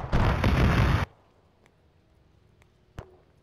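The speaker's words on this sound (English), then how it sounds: "Where are all the explosions coming from?" In the video game Arma 3, a loud, rumbling explosion burst lasting about a second, followed by quiet with a couple of faint distant pops and one sharper thud.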